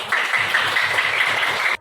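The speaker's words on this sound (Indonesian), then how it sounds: "tepuk tangan kelompok" Primary school pupils applauding a group in a classroom, a steady dense wash of many hands clapping together for under two seconds before stopping abruptly.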